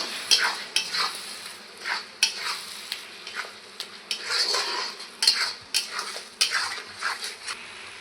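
Boiled pointed gourd paste stirred together in a pan, a spoon clinking and scraping against the metal in repeated quick strokes under a soft sizzle, close and without speech.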